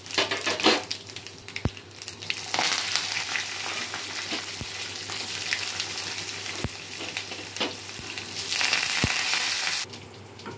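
Tempering spices crackle and sizzle in hot oil for a tamarind chutney, a close, steady frying hiss that swells and eases, with a few sharp clicks of a utensil against the pan.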